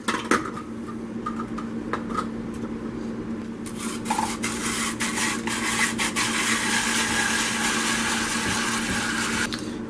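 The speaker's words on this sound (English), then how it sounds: "And now we're going to start grating it up." Rough, repetitive scraping of potato against a metal grater, close up, with occasional knocks and clatter in between.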